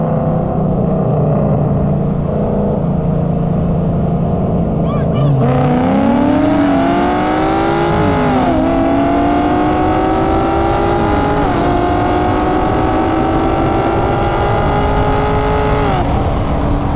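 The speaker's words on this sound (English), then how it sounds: "That's the race right there, y'all. That BMW versus that SS." A BMW and a Chevrolet SS street racing at a car meet, loud engines roaring and revving through rising gear shifts, heard close with people talking over the noise.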